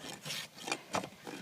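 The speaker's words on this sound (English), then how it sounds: "what I'm doing is taking off that flare and getting my rasp perpendicular" Farrier's rasp filing a horse's hoof wall to remove flare, four or five close, rough scraping strokes in a steady back-and-forth rhythm, alone.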